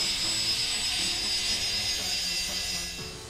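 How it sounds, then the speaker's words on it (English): United Airlines jet airliner with an engine fire after a bird strike, flying low after takeoff toward a seaside runway; steady loud roaring engine whine with a high tonal scream, sustained and easing slightly at the end. "A United Airlines jet experienced an engine fire after a bird strike shortly after takeoff"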